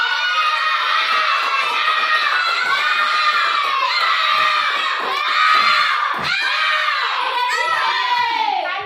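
A classroom full of children shouts and cheers together in a loud, continuous roar of young voices, with clapping buried beneath the noise.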